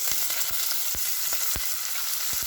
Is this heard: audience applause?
no